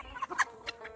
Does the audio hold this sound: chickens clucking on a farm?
yes